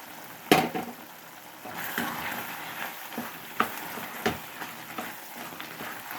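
A new-harvest vegetable curry seasoned with chili powder sizzles and fries in a pan, with a soft steady crackle broken by several sharp clinks and scrapes of stirring.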